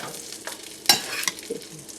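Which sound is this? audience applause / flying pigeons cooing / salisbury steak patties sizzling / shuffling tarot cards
salisbury steak patties sizzling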